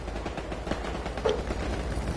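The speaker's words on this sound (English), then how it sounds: "We got shots fired coming from our southeast now." Sustained automatic gunfire in a military video game, a steady rattle of machine-gun bursts heard at moderate distance across the whole stretch, with no talking.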